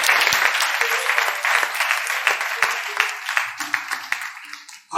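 A church congregation bursts into loud, sustained applause with scattered cheers, dense clapping filling the space before tapering off near the end.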